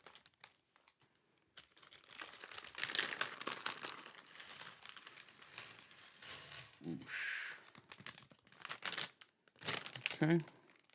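A plastic bag is opened with intermittent crinkling and rustling in uneven bursts, close but fairly quiet, with brief handling clicks in between.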